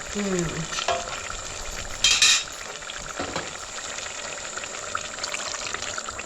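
Water splashes into a chicken curry gravy cooking on a village wood-fired stove, a short, louder pour midway through a steady background of sizzling and stirring, with a few light clinks of a utensil against the pot.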